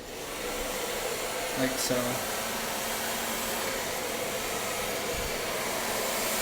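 A hair dryer blow-drying hair with a flat square brush gives a steady, close, unbroken whir that runs the whole time, with a brief spoken remark heard over it.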